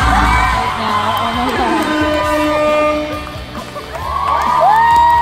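A fan crowd at a Hall of Fame game-day event cheers, whoops and screams loudly in rising, overlapping shrieks and yells, with one voice sweeping up high near the end.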